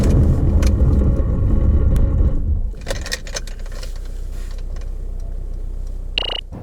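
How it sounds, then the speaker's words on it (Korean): A 2019 Mercedes-Benz C220d diesel car during a braking test: a loud, steady road and engine rumble fades sharply as the car slows, then a quieter hum follows, with a brief high squeal near the end. "그렇다면 제동 성능에 대해서도 한번 알아볼까요?"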